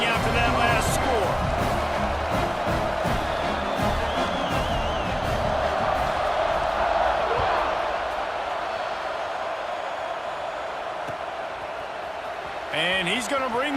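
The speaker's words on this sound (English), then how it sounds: "this crowd is buzzing after that last score" A stadium crowd in a football video game buzzes with a continuous, dense roar throughout, running beneath a voice that talks over it.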